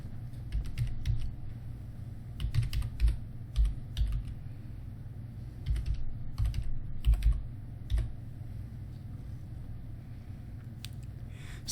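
Typing on a computer keyboard to enter text into a search field, irregular bursts of soft key taps with short pauses between words, steady and close.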